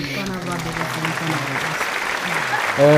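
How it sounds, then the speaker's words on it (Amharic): Warm applause from family members at a 28th wedding anniversary celebration, a steady wash of clapping running throughout with a voice speaking over it. "እኛ ልጆቻችሁ አንዴ ሞቅ ያለ ጭብጨባ"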